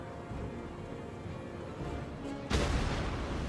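A battleship's guns fire in the World of Warships Legends naval game, one sudden heavy boom that breaks over a steady low rumble and then rolls on, with no talk during it.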